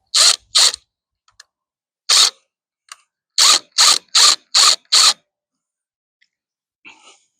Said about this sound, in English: Go ahead and just snug them up with the impact.